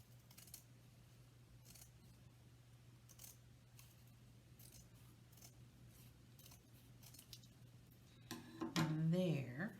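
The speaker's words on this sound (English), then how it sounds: "I'm going to take my scissors" Scissors snip repeatedly at close range while cutting a tree-trunk shape from a bag, as a series of faint crisp clicks under quiet background, ending with a brief burst of talk.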